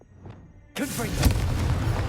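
A booming blast from the Confringo blasting spell in Hogwarts Legacy, erupting suddenly after a quiet moment and rumbling on loudly, with a brief spoken word just before it.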